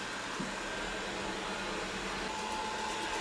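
A Tesvor X500 robot vacuum cleaner hums continuously with a steady whirring motor and broadband air noise, moderately loud and close, with no voices.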